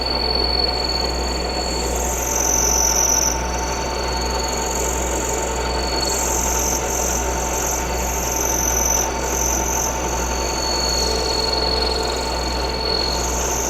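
A metal lathe takes a boring cut with an insert tool, about 50 thousandths deep on the diameter. It makes a steady, loud mechanical hum with a thin high-pitched whine that rises and falls slightly, continuous throughout with no talking.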